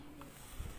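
A pigeon on a rooftop gives a single faint, brief coo against quiet background noise.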